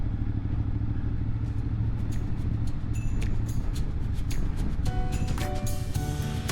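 A motorcycle on a town ride hums with a steady mid-pitched engine drone throughout, joined near the end by sharper clattering and rattling sounds over the continuous running.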